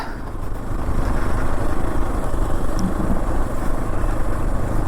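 A motorcycle engine drones steadily throughout on a forest road, a continuous low rumble as the bike rides along, fairly close and even in loudness.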